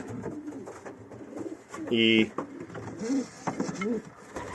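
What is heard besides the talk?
pigeons cooing in a pigeon loft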